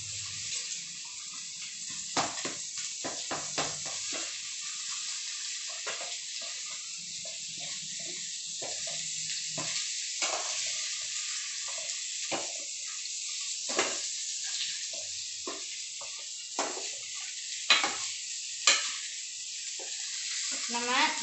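Ingredients for pasta are sautéed in a pan at a cookery contest, a steady thin sizzle with frequent scraping and stirring clicks from a spoon, fairly quiet and close.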